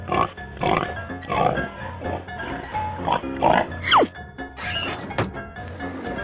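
Pig grunts and oinks as a video game sound effect, a few short snorting bursts heard among game music, thuds and sweeping whooshes.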